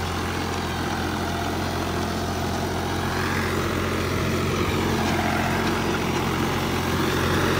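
A New Holland 5500 tractor, around twenty years old, runs steadily with a 6.5-foot rotavator working a wet field, giving a continuous loud low engine drone with no pauses and no speech.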